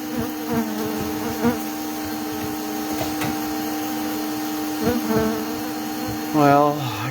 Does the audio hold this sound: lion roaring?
no